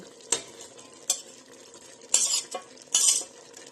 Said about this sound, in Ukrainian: Тепер до нашого м'яса ми додаємо цибульку